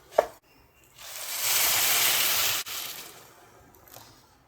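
A short clink, then a gush of boiling water poured into a pan of spiced rice, hissing for about two seconds before cutting off.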